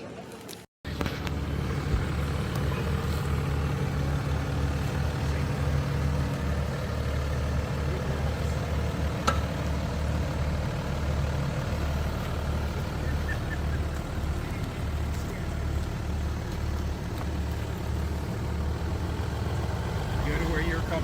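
Jeep Wrangler Unlimited with EcoDiesel diesel engine off-roading, a low steady rumble of the engine working at slow speed throughout, with people talking nearby over it.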